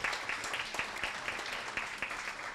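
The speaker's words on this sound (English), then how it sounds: "Give her a round of applause." Steady applause from a crowd, a dense wash of clapping with a few sharper claps standing out, continuing throughout.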